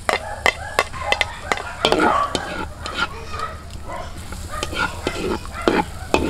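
Garlic sizzles in butter in an outdoor pan for lechon sisig, with a steady frying hiss broken by repeated sharp scrapes and clacks of a spatula stirring.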